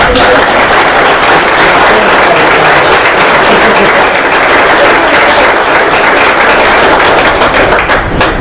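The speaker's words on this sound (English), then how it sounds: "So if you all would give a round of applause." Loud, dense applause from an awards ceremony audience honoring recipients, continuous close clapping that fills the whole stretch without letup.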